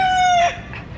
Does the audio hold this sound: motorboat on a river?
no